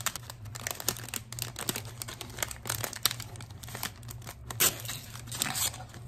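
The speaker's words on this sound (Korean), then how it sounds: "그래서 얘를 OPP 비닐에 한번 넣으실 거예요." A clear OPP plastic bag crinkles and rustles steadily up close while being handled for a flower-arrangement money basket, with sharp crackles over a constant low hum and no talking.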